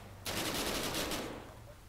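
Rapid automatic gunfire in the military shooter game ARMA 3, a loud sustained burst of closely spaced shots lasting about a second, then fading into quieter ambience.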